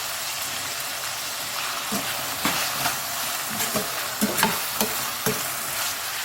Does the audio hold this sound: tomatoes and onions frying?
yes